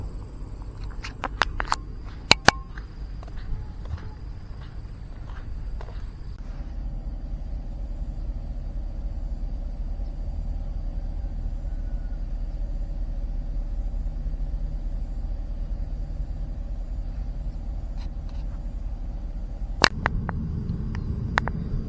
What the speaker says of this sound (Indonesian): Kita lihat ada mesin kren dan juga beberapa truk yang standby untuk menunggu giliran